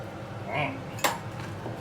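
A spoon clinks against a pot of Isan-style pork bone soup with holy basil while it is stirred, one sharp clink standing out among soft scraping sounds close by.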